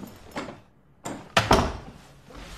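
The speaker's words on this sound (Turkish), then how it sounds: "Kapıyı kapat bari." A door shuts in a horror film scene with a quick scrape and a solid closing thud, followed by a second sharp knock-like impact, all close and fairly loud against a quiet room.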